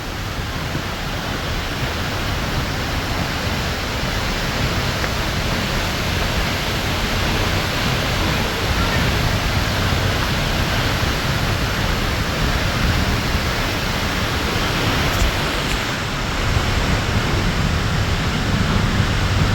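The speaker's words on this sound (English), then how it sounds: "we are standing behind a waterfall." A waterfall at Silver Falls State Park heard from a cave behind the falls: a dense, unbroken roaring rush of water, loud and close, filling the whole stretch without pause.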